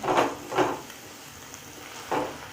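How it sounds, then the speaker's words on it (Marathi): Chicken liver fries in oil under a low, constant sizzle, while three distinct scraping stirs sweep through the pan at close range. "असेच दोन तीन मिनटासाठी आपण चांगली आहे ना फ्राय करून घ्यायचं आहे तेलामध्ये"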